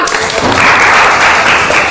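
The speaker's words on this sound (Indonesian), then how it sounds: "Beri tepuk tangan dulu buat kita semua." Loud, close applause from a group, a dense burst of clapping that swells and continues steadily.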